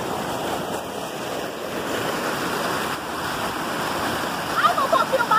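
A waterfall beside a house pours with a continuous broadband rushing wash at moderate distance, steady throughout, with a few faint chirps near the end.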